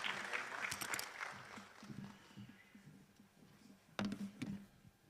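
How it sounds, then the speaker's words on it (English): Audience applause at an economic blocs exchange program dinner: a burst of clapping that fades over a few seconds, then a second, shorter round, with faint voices underneath. "Another round of applause, please,"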